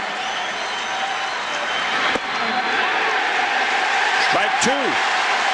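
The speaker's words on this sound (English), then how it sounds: "the crowd is going to erupt with every strike" Crowd at Yankee Stadium during David Wells' perfect game against the Twins, a loud, steady roar of cheering and applause filling the ballpark beneath a broadcaster's commentary.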